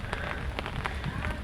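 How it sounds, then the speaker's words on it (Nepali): Heavy early-spring rain in hilly Taplejung, Nepal, patters densely and continuously nearby, with sharper individual drops striking an umbrella and surfaces in irregular bursts. "पानी अझै नि पर्दैछ"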